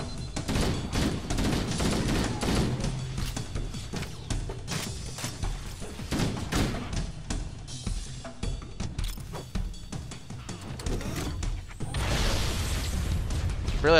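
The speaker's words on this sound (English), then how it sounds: "Why are the guys shooting at us?" Enemy gunfire in the video game Halo: Combat Evolved, sustained bursts of shots and booms crackling throughout amid heavy battle noise, with a louder flurry near the end.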